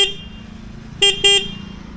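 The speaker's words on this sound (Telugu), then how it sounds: "ఒకసారి హారన్ సౌండ్ కూడా వినండి." Two short, sharp horn blasts come in quick succession from a 2025 Bajaj Pulsar N160 motorcycle, heard up close over the steady low rumble of its idling engine.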